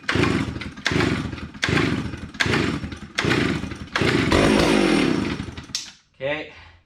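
Someone yanks the starter cord of a chainsaw on full choke, giving five rhythmic rasping pulls. On the last pull the engine briefly sputters into a loud snarl, then a short mechanical rattle follows near the end.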